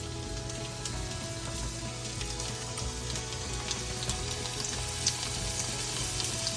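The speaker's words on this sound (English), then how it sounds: "let's start putting in our squash. Just kind of beat a little bit of the flour off. And these are going to fry really quickly." Flour-dusted squash pieces fry in hot oil for a Sunday lunch, giving a steady dense crackling sizzle throughout with a few faint clicks and small bursts rising out of it.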